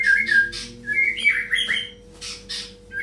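A songbird, a white-rumped shama, sings close by in bright whistles, chirps and quick warbling phrases with short pauses, over a faint steady hum.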